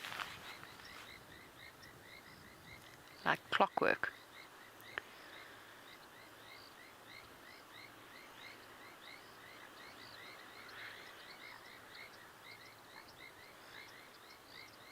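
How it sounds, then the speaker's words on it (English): Frogs and an olive toad call at a dam at dusk, a rapid, rhythmic chorus of repeated croaks and chirps carrying steadily from a distance, briefly interrupted by a short louder burst of voice. "You can hear an olive toad croaking in the background."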